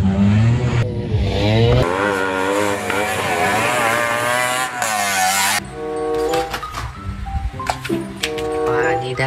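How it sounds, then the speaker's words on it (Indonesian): A bemo, a small three-wheeled vehicle, passes with a buzzing, rising engine note followed by clattering, with chattering voices and other sounds mixed in. "Ada bemo kawan."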